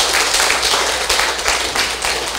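An audience at a legal studies class in Taiwan breaks into dense, continuous applause, many hands clapping together in a steady wash of sound at fairly loud level.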